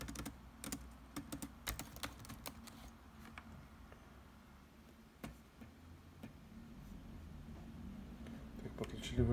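Keys on a computer keyboard with one unresponsive section are pressed during a test, producing scattered, irregular clicks and taps at close range over a low background hum.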